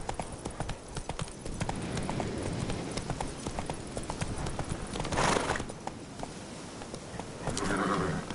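Galloping hooves of the horse Roach in The Witcher on PS4, a steady rapid clip-clop rhythm running throughout at moderate loudness, with a brief snort or whinny near the end.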